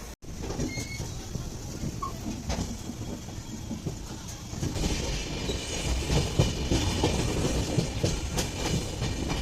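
Tamralipta Express 12857 rolling out of Howrah, a steady close rumble of wheels with rhythmic clickety-clack over rail joints, growing slightly louder and busier midway, with no voices.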